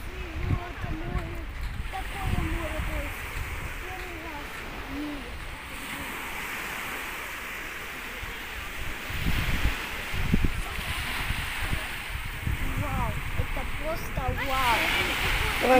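Sea surf on a beach in Mersin washes and rushes in a steady broadband roar, with waves building and breaking close by while people talk over it throughout.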